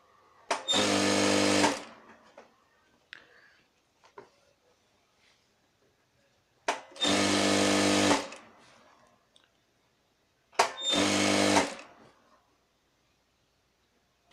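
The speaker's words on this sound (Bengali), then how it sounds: "পুরোটাই একদম সোজা সেলাই হবে" Electric sewing machine running a straight seam on a petticoat, three loud sustained bursts of rapid stitching separated by quiet pauses with faint handling clicks.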